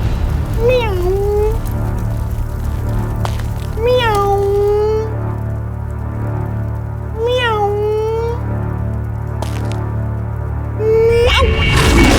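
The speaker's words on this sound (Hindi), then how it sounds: "प्यारी सी बिल्ली है, बिल्ली।" A cat meows four times at regular intervals, each call clear and close, over a constant low hum and faint background noise.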